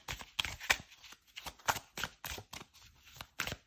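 Tarot cards are shuffled and drawn close up: quiet papery riffles and flicks in quick bursts, separated by brief pauses.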